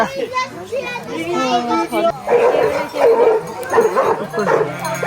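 A Bhote dog barks and yips excitedly while chasing another dog, among the lively shouts and chatter of children playing nearby.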